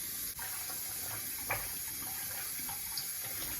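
Razor rinsed under a running tap, giving a steady, close rush of water with brief splashy changes as the blade passes through the stream.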